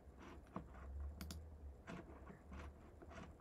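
Button presses on an X-keys T-bar controller while cutting between sources: a handful of quiet, sharp plastic clicks spread across the moment, heard close over a low background hum.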